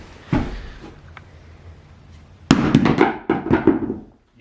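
A mitered tile shower curb struck in an impact test: one hard thud, a pause, then a burst of cracking, snapping and clattering pieces as the tile breaks, loud and close.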